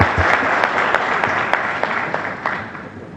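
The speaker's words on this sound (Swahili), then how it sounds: "makofi tafadhali." An audience applauds at a hotel launch ceremony, a sustained, even burst of many hands clapping with a few sharper individual claps standing out, fading slightly toward the end.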